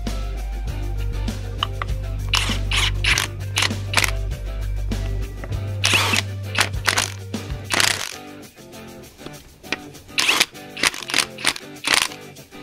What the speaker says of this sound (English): now I'm all set to ratchet everything down